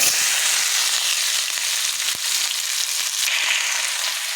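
Ingredients for egg noodles sizzle loudly in hot oil in a pan, a dense, continuous hiss with scattered sharp crackles throughout.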